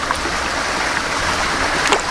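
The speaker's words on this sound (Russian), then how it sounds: "О, опять водопадик." Steady rushing water from a small waterfall on a river fills the clip as a constant broadband hiss with no voices.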